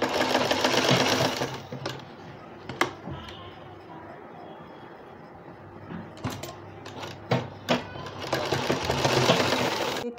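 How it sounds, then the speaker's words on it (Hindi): Domestic sewing machine stitching piping around the round neckline of a newborn baby's dress, a steady close whirr running in bursts with brief pauses and clicks as the fabric is turned, no voices. "इस तरह सिलाई लगाते चले जाएंगे कपड़े को फोल्ड करते हुए"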